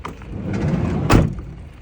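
Sliding door of a Hyundai Starex van rolling open, a close rumbling glide ending in a firm clunk, with no speech.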